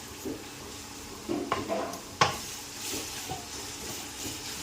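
Onion poha cooking in a pan, with a soft continuous sizzle and stirring, occasional clinks of a spoon against the pan, and one sharper knock near the middle.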